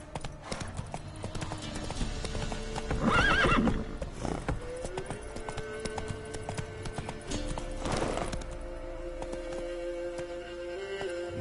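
Roach, a horse in The Witcher video game, gallops with steady, rapid clip-clop hoofbeats across the scene. A loud neigh rises partway through over a background of game ambience and music.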